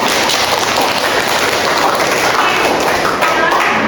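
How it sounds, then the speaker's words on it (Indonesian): A class of students applauds together, a dense, steady wash of clapping that fills the whole moment at close range, with no break or pause. "Aplaus dulu dong teman-teman."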